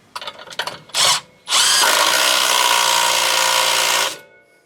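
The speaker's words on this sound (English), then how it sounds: "We'll run it down with a 1/2 inch socket." A long bolt on a John Deere 625i is run down with a 1/2 inch socket on a power drill: a few short bursts, then one sustained, loud whine of roughly three seconds that stops abruptly.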